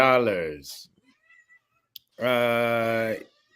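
A pet cat meows twice, each call drawn out and clear, with a quiet gap between them.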